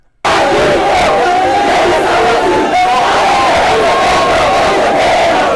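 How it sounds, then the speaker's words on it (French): A large crowd cheers and shouts continuously at a political rally at an airport, a loud, dense roar with a brief dip in the middle, sustained throughout and close to the listener. "Le bain de foule, attaché à sa personnalité, était au rendez-vous."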